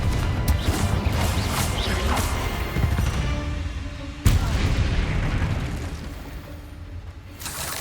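A Confringo blast spell in Hogwarts Legacy, heard as a sharp, loud burst and crash standing out from busy mechanical combat noise, followed by a decaying rumble.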